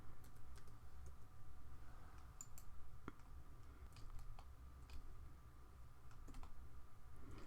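Quiet typing on a computer keyboard while working in AutoCAD, scattered soft key taps and mouse clicks over a low room hum, no talking.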